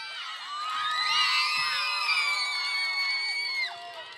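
A studio audience at a 2009 Bulgarian folk dance-off show cheers a contestant, with loud whoops, shrill shouts and crowd roar building quickly, holding steady for about three seconds, then dropping off near the end.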